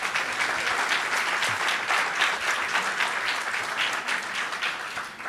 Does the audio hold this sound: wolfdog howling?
no